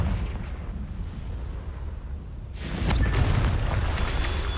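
A Confringo blasting spell from the Hogwarts Legacy video game erupts midway into a loud, rushing explosion that follows a low rumbling stretch and then holds a roaring crackle.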